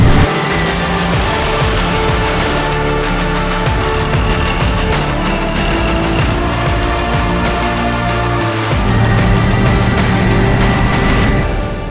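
A Leclerc main battle tank's engine runs loud and close with a steady, heavy mechanical drone and whine, its tone shifting slightly partway through as the load changes. No voices are heard.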